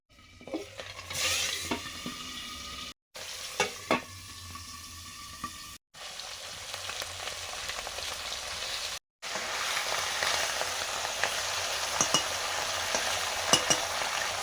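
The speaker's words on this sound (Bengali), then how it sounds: "উনুন ধরিয়েছি, পাবদা মাছগুলো ভাজতে দিয়েছি" Pabda fish frying in a pan over a lit clay stove, a steady close sizzle with occasional stirring clinks and scrapes, briefly cut by short silent gaps, then a denser crackle toward the end.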